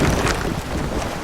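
Wind rushes over a sailing ship at sea in the game Sea of Thieves, a loud, steady blowing roar with washing water underneath and no voices.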